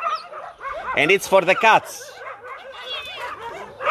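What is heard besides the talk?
shelter dogs barking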